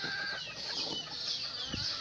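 Chickens, including white hens, clucking in a backyard poultry pen, with dense overlapping calls and scratchy rustling all the way through.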